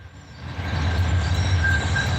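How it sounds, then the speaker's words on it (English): A train rolls past close by near the river in St. Louis, a steady loud low rumble of wheels on rails that swells and holds, with a thin high squeal running over the top. "Train."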